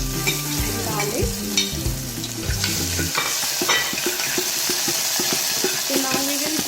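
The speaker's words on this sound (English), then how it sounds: "now I'm adding ginger and garlic" Ginger and garlic frying with cumin seeds in hot oil over a low flame, cooking for moong daal: a steady, close sizzle with crackling pops, and stirring clatter early on.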